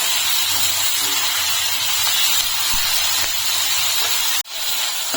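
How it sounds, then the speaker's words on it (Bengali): Steady loud hiss of vegetables frying lightly in a pan, a continuous sizzle that holds throughout and briefly dips near the end, with no talk. "সবজিটাকে খুব বেশি ভাজবো না, হালকা একটু ভেজে নিতে হবে।"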